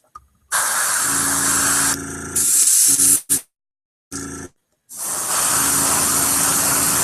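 Spray paint hissing onto the underside of a small miniature model, several steady bursts of spray separated by short silent pauses, close and loud.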